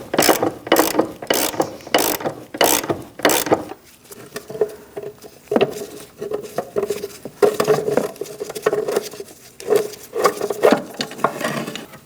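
A ratchet wrench cranks loose a motor mount bolt on a 2000-2006 Mini Cooper 1.6L four-cylinder. Several quick close clicking bursts come first, then a longer run of slower, uneven ratcheting.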